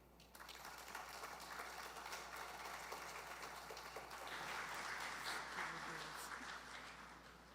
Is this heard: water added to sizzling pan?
no